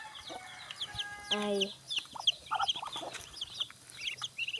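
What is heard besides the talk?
mother hen clucking at chicks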